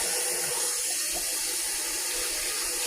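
Hot water running steadily from a kitchen tap, a loud continuous close gush with no talk over it.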